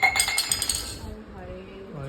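A drinking glass is knocked over and clinks sharply at the start, the ringing fading quickly indoors before voices speak.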